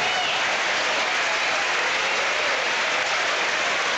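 A packed tennis crowd in Cincinnati applauds steadily for a popular player during a 1998 match, a dense, continuous wash of clapping that stays loud and even throughout with no voices standing out.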